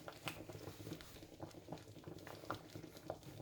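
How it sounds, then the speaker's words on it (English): Thick Jamaican oats porridge with nutmeg bubbles in a pot, soft irregular pops and blips sounding close and quiet. "it's just boiling down properly"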